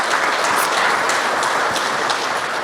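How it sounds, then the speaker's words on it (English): A hall audience applauds at an inspirational speech event about living with ALS, with steady, dense clapping that holds at a loud, even level throughout. "Give yourself a round of applause."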